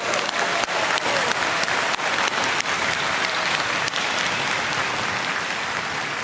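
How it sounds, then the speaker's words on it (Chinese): Audience applause at a presidential inauguration ceremony for Taiwan's president William Lai, a dense, steady roar of many hands clapping continuously with a few sharper claps standing out, loud and sustained throughout. "我们是不是用最热烈的掌声欢迎、感谢他们？"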